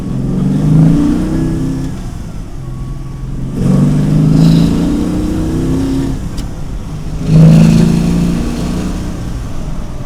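A 1967 Pontiac Firebird engine revs in three loud surges about three seconds apart, each swelling and settling back to a rough idle, with a rattle riding on the engine note.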